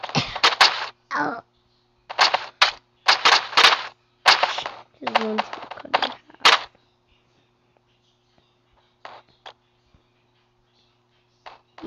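Bursts of gunfire from the video game Melon Playground, several rapid volleys of sharp, loud cracks in the first half, then a few isolated faint pops after a quiet gap.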